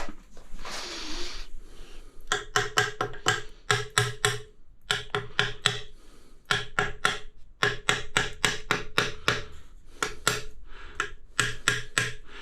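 Rapid sharp taps in irregular bursts, a rubber hammer knocking on floor tile being set into a mud bed in an ensuite bathroom, close and crisp with brief pauses between runs.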